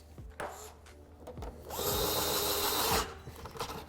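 A power driver sets a screw into a C7 Corvette composite undertray, with a sustained whirring run of about a second between short clicks and taps of handling.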